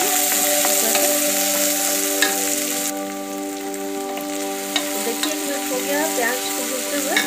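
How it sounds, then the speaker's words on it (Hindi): Onions sauté in a pan for Indian-style masala macaroni, giving a steady, close sizzle with occasional spatula scrapes and a faint tonal hum running underneath throughout. "प्याज को भूनते हुए"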